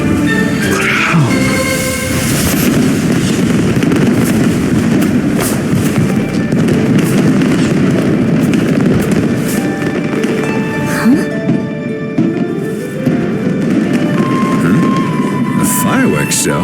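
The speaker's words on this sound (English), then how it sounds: "A fireworks show?" A fireworks show in Genshin Impact, dense continuous crackling and rumbling bursts at loud, sustained level throughout, with scattered sharp pops layered over a thick low roar.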